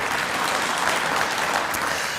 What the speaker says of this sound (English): Yeah, that deserves a round of applause.